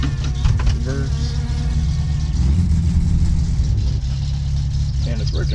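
A manual car in My Summer Car idles and revs as it backs up with the parking brake off, a steady low engine drone throughout, loudest midway, with a faint voice over it.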